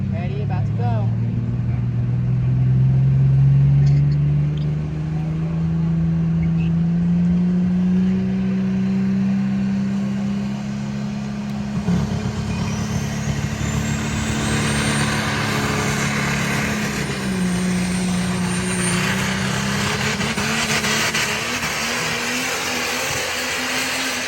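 Justin Ziegler's truck revs loudly at a callout challenge event, a sustained engine roar that climbs and wavers in pitch across the whole stretch, with crowd voices and noise in the background.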